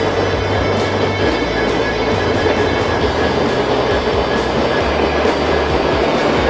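An XPT passenger train rushes past close by with a steady loud roar, rhythmic clickety-clack of wheels over rail joints, and faint metallic squeals.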